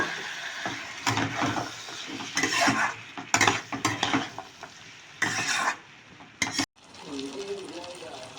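Chopped tomatoes go into a hot pan and are stirred with spices for pav bhaji, bursts of loud sizzling and scraping of a spoon against metal coming in uneven strokes, with a quieter stretch of frying near the end.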